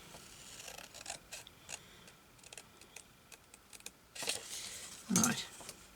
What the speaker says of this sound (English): I'm going to cut this down here.